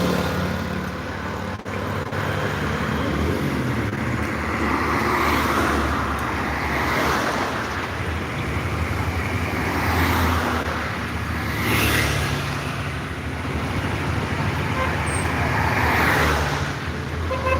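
Steady road traffic with buses rolling past one after another, a continuous broad rumble swelling and fading as each passes close by.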